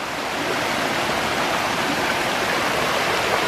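The Srebarstruy waterfall rushes in a steady, loud, broadband roar of falling water, close and continuous with no breaks and no voices.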